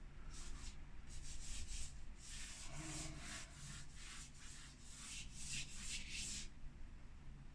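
An eraser rubbing across a charcoal and chalk pastel drawing of a coastal landscape: a run of soft, gritty back-and-forth scrubbing strokes, close and faint, with short pauses between bursts and no speech.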